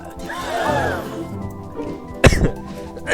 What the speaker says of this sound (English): Don't mind my cough.